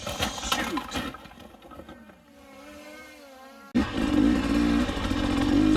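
A 2023 TBI 300 XC two-stroke dirt bike engine labours up a four-foot rock step at Moab, buzzing and rising in pitch, dropping off, then surging back loud and close.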